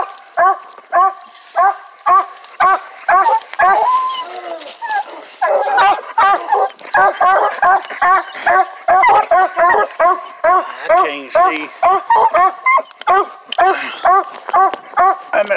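A hunting dog in the East Texas woods barks and yips in rapid, excited bursts at close range, keeping a steady rhythm for the whole stretch with brief whimpering tones mixed in.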